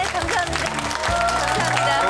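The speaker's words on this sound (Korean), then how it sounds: "박수 한번 해드리세요" Studio audience applause on a Korean TV talk show, a dense wash of clapping that runs steadily through the clip, blended with a harmonic tonal sound.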